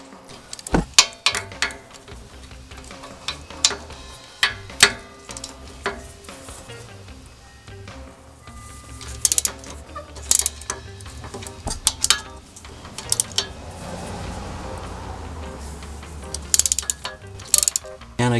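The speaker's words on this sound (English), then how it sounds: "You should just be able to loosen those with your typical socket wrench or breaker bar." A socket wrench ratchets while loosening the rear wheel hub bolts on a 2005 Toyota Matrix, with repeated close bursts of clicking and sharp metallic knocks spread over a long stretch of work.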